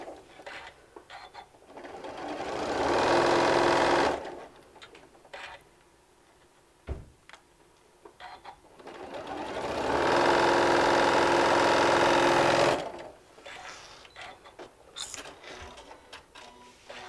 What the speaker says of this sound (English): we can sew all the way across on this one